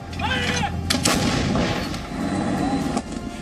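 An Indian indigenous advanced artillery cannon fires a salute at the Red Fort: one loud booming blast with a rolling, echoing tail, followed by another heavy report near the end.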